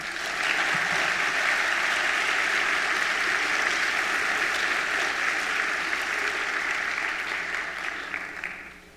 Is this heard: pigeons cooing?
no